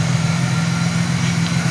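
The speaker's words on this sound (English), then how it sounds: "Alright, so car is now warming up." A turbocharged 1999 Buick Regal GS with a 4T65E transmission idles steadily while warming up, a constant low engine hum with a strong low tone, close and unbroken for the whole short stretch, no talking.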